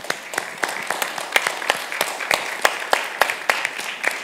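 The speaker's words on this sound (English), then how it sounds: "ask everybody for a big round of applause for our fantastic panel" An audience applauding a panel at a conference on sustainable development financing in the Caribbean: sparse, distinct hand claps in a steady patter from a modest crowd, moderately loud throughout.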